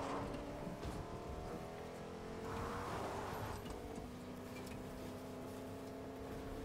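A truck drives in the video game Fortnite, its engine giving a steady, tonal drone with a rougher surge midway, playing on its own without talk.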